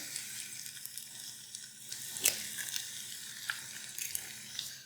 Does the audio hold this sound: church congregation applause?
no